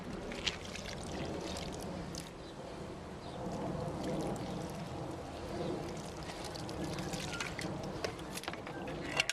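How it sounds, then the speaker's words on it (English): Water is poured from a container onto a pile of biochar being prepared for a garden, a soft continuous splashing trickle heard at close range. "So one more time with a little bit of water here."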